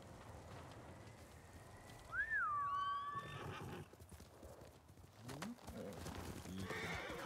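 A horse in the video game Ghost of Tsushima gives one clear, rising-then-falling whinny, followed by faint hoof clip-clop and soft rain-like patter in the background.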